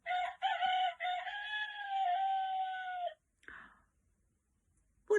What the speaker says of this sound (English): It wakes all of the other animals in the farm. It's called a cockerel.